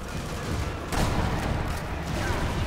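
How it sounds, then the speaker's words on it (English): Gunfire and a loud crack of a sniper rifle shot in Sniper Elite V2 amid dense, noisy battle ambience, with a sharp report near the middle and rumbling echoes around it. "Boom, headshot."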